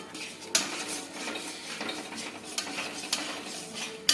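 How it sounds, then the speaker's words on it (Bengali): Milk for carrot halwa being stirred in a kadai: a spoon scrapes and clinks against the pan in repeated strokes over a soft bubbling simmer, fairly quiet and close, with several sharper metallic taps. "নেড়ে নেড়ে নেড়ে একদম দুধটাকে শুকিয়ে দেওয়া হবে।"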